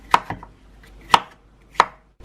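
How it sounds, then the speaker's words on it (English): A knife chops cucumbers on a cutting board while a Mediterranean quinoa salad is prepared: three sharp, close, loud chops, each trailed by a lighter tap, with short pauses between them and no talk. "Then I'm going to chop my cucumbers."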